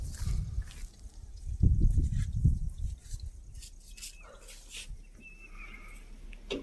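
Puppies whimper and whine close by in a village setting, giving thin high cries and a few short yelps in uneven bursts, louder early on and softer toward the end, with no talking.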